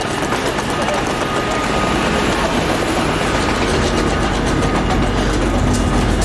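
A train in Belgium rumbles along with a continuous low engine drone and faint rhythmic clatter, loud and close, filling the whole stretch without letup.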